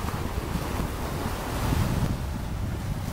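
Ocean waves washing onto a beach, a continuous rushing surf with wind buffeting the microphone, steady and fairly loud throughout, with no voices.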